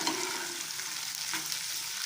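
Garlic and ginger paste browning in a hot pan, a steady soft sizzle with faint stirring scrapes, close and continuous with no talk.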